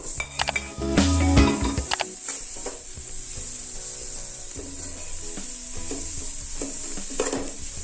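Leeks hit a hot pan seasoned with salt and turmeric for egg rice, giving a loud burst of sizzling and a few metal clinks, then a steady, softer frying hiss with occasional stirring scrapes.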